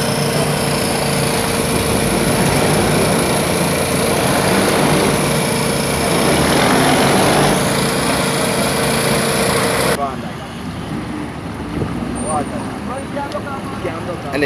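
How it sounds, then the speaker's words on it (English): A backhoe digging a trench along a road: a steady, loud engine drone runs continuously, with a drop in level near the end and voices talking faintly beneath. "they are using what you call a backhoe, not an excavator"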